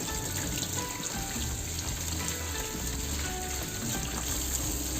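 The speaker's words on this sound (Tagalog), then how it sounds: "Siyempre, hugasan natin yan. Ng cold water." Radish rinsed under cold running tap water in a sink, a steady full splashing hiss of water throughout, close and continuous with no speech.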